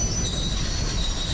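A train in a haunted-train horror video game rumbles loudly and continuously, its wheels squealing in a high, steady whine over a dense low roar.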